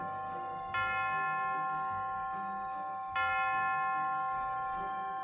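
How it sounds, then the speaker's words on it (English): Two resonant bell strikes ring out about two and a half seconds apart, each a clear metallic toll with a long, slowly fading hum over a quiet, murky background. "I hear the bells tolling."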